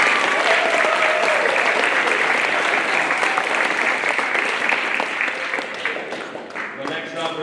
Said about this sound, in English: So we can get a quick round of applause for them.